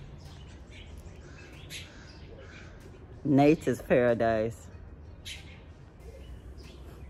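Birds chirping outdoors at sunrise in Gambia, a brief burst of clear, close calls in the middle, with a person speaking over quiet background ambience.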